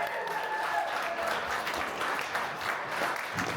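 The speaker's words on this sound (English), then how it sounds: "Now you can give them a round of applause for the fantastic speech." Wedding guests at a reception give a round of applause after a speech. The dense clapping is steady and fills the room for a few seconds with no pause.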